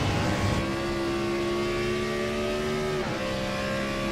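A Gen 4 stock race car in a sim racing game at Watkins Glen screams near 10,000 RPM, a loud steady engine whine holding pitch before a quick dip as it shifts, then carrying on.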